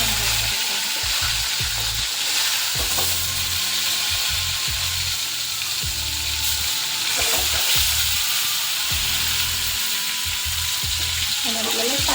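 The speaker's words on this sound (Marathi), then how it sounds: "जिरे आपले टाकून झालेले आहेत आपल्याला छानपैकी ते तडतडून द्यायचे आहेत" Cumin seeds and turmeric crackling in hot oil, a loud continuous sizzle with scattered pops and stirring scrapes, close up throughout.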